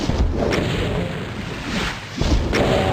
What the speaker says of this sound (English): I think we'll start shooting them with that rocket launcher